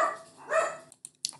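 Dogs give two short close barks followed by a few faint yips, brief and loud at first, then quieter, with no talk.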